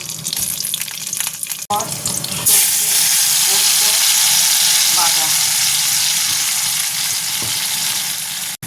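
Nigella seeds and green chilies sizzle and crackle in hot oil, a loud, steady frying hiss that jumps up after a brief stir and keeps going without pause to the end.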